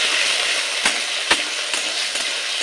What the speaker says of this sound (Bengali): ছোলা ভালো করে কষিয়ে নেব, আদার কাঁচা গন্ধ যাওয়া পর্যন্ত